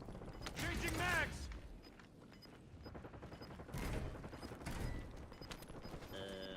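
Weapon magazine change in Call of Duty Warzone: mechanical clicks and ratcheting metal handling, mixed with bursts of distant gunfire and game noise in a busy battle soundscape, with a voice in the background.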